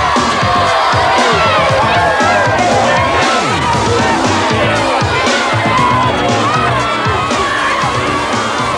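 Loud crowd shouting and cheering in the snow on the set of Coming to America, a dense continuous roar of many voices with scattered whoops and cries.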